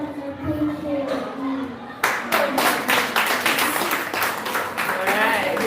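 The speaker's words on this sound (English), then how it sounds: "give them a round of applause" At a primary school staff day and award ceremony, children and staff break into sustained applause: brisk, dense clapping from a crowded room that starts abruptly and continues steadily, with a voice speaking just before it begins.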